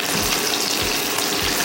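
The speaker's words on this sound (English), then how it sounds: "And that's gonna sizzle and get happy." A ribeye steak sizzles steadily in a hot pan, a bright continuous crackling hiss with no voices.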